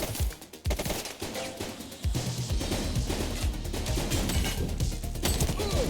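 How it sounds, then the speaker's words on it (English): Dense bursts of automatic gunfire in The Precinct, a police game, with rapid overlapping shots and crashes that run almost without a break, loud and close. "He's shooting!"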